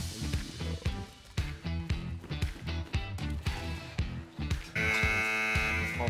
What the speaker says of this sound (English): Oh, raid alarm.